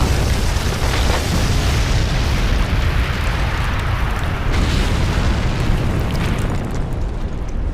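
A massive anime-style explosion from a super move destroying the Alamo roars loudly and continuously for several seconds, a dense booming blast with crackling debris and no voices.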